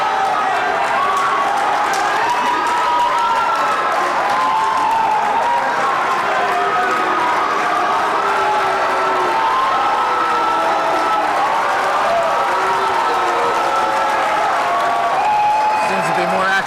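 Rival Sayreville and East Brunswick spectators roar in the stands at a 1985 high school wrestling match, a dense, loud, continuous crowd din with chanting and applause and talk mixed through it.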